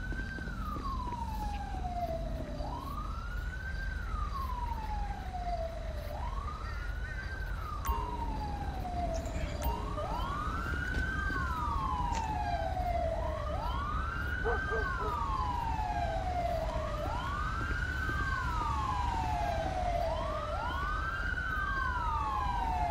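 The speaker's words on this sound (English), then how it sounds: "Oh, here comes the ambulance again." Wailing ambulance siren from the GTA V LSPDFR police mod, a steady rising-and-falling wail repeating about every three seconds for the whole stretch, loud and close over low road rumble with no talk.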